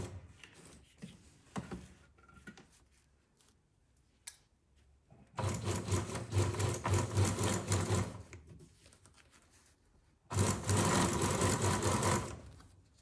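A sewing machine stitches through all the layers of a ruffled blouse collar, running close and steady in two long bursts with a quiet pause between them. No one speaks.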